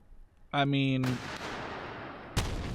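Artillery round striking a tank turret in a WW2 strategy video game: a tonal firing whine, then a heavy booming blast with a long rumbling tail, and a second sharp impact near the end.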